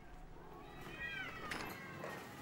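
Cats in an animal shelter in Idlib, Syria, meow at feeding time, several drawn-out mewing calls rising over faint background noise, fairly close.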